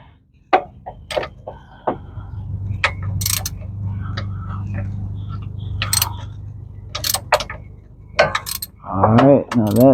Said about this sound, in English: Got my 13 millimeter socket wrench here, deep socket or whatever fits.